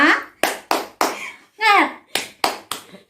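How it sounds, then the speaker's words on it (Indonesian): Children clap their hands in a classroom, several sharp group claps in an uneven rhythm, with a voice calling out between them. "kita bertepuk tangan dulu anak-anakku"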